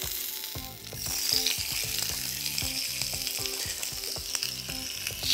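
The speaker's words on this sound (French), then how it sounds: "Et on va le poser sur le grill, d'accord? Mais côté peau." Wild Alaska salmon fillet sizzles skin side down on a grill, a steady loud frying hiss with crackling pops throughout, no voices.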